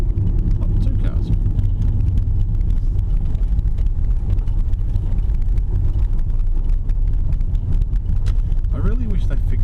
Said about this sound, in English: Oh, two cars.